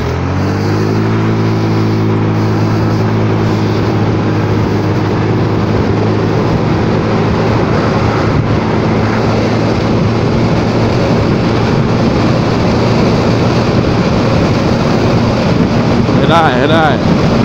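A Honda Forza 300 scooter rides with the throttle open, its engine drone climbing in pitch and then holding steady, buried under loud, constant wind rush across the microphone.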